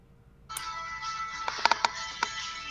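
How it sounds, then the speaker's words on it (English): A mobile phone ringtone chirps during a casual live crochet and knitting lesson, a few short tonal bursts that are fairly faint behind a steady background hum, with no talk over it. "I hear your mom's phone."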